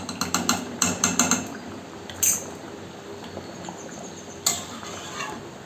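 Ghee poured into boiling moong dal cooked with a fish head: soft stirring and scraping clatter with a few sharper clicks and bursts over a low simmering bubble, no talk.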